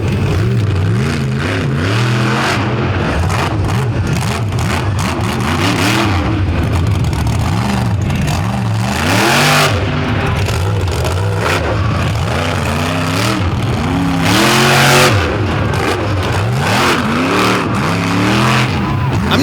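A monster truck engine roars and revs hard at Boyd Speedway in Chattanooga, loud and close, rising and falling in repeated throttle surges, with an announcer talking over it.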